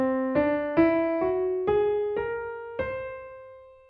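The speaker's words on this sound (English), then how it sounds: "One of these whole tone scales uses three black keys and it sounds like this." Whole tone scale played on piano, six single notes rising steadily in pitch at an even walking pace, each ringing into the next, clear and close with no voices.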